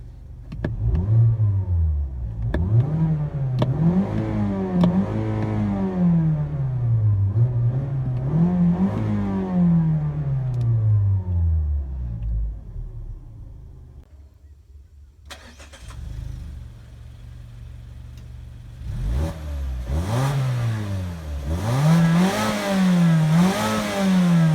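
A 2017 Mazda3 Touring's engine revs repeatedly, rising and falling in steady loud waves from close by, then drops briefly to idle before revving again in sharper bursts.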